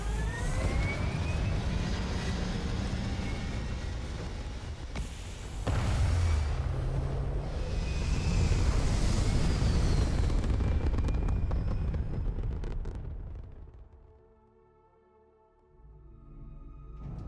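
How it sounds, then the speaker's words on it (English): Spaceship thrusters fire in Starfield, a loud, sustained roaring rumble with rising whooshing tones that holds steady for about thirteen seconds, then fades sharply to a quiet hum. "All thrusters firing."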